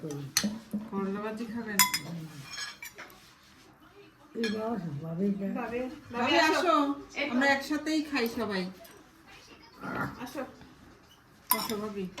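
Dishes and cutlery clinking while rice is served at home, sharp clinks scattered between stretches of people talking.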